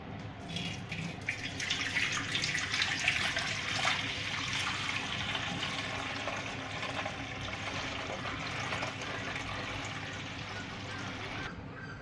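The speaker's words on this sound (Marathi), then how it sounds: "आता यामधील वरचे पाणी आपल्याला काढून टाकायचे आहे" Top water is poured off from a container of soaked wheat pulp, a steady trickling, splashing stream that runs nearly continuously, close and moderately quiet, ending abruptly.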